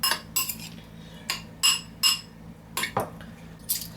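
Metal spoons clink and rattle as they are grabbed, about eight sharp, bright chinks in irregular clusters, close by and fairly loud.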